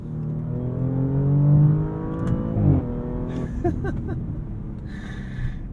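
A 2023 Audi S6 engine revs with a rising harmonic sweep, then the exhaust crackles and pops in short bursts as the revs settle, loud and close.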